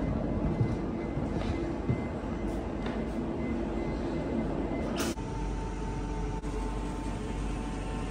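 A steady low rumble and rattle of a moving train carriage heard from inside as it crosses under water through a tunnel, continuous and moderately quiet, with a brief clunk midway.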